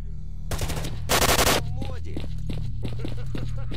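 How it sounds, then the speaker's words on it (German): Bursts of rapid gunfire in S.T.A.L.K.E.R.: Shadow of Chernobyl crack out, including a dense machine-gun volley, over a steady low game soundtrack hum. "da waren ja schon mal die ersten Schüsse gewesen"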